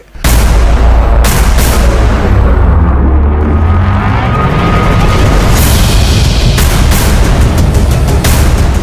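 A Russian D-30 howitzer firing from a mountain peak in Panjshir: a loud, close blast followed by sustained rumbling and further sharp reports spread across the stretch, with broadband roar throughout.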